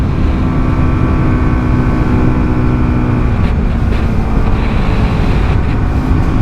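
Lexmoto LXS 125 motorcycle with a six-speed gearbox ridden at full throttle, a constant loud engine drone mixed with heavy wind rush, steady and unbroken throughout.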